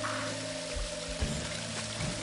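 Waterfall water in the video game Shadow Man Remastered: a continuous dense rushing and splashing wash with no clear breaks, fairly loud and steady.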